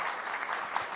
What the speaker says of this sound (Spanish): Bienvenida, con este aplauso y abrazo, Melissa Merlo, de Honduras.